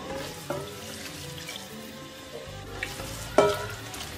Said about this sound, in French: Là, je suis en train de laisser l'huile chauffer.